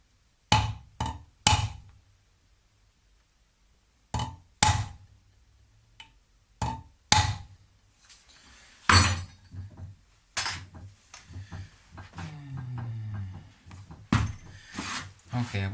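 Sharp metallic taps of a center punch struck into metal ring out close by, a quick cluster of three followed by several more spaced strikes, with faint talk and handling noise in between.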